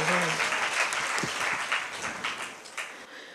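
A church congregation claps in praise during a Telugu sermon, making a dense burst of applause that starts full and slowly thins and fades, with a faint voice briefly heard underneath.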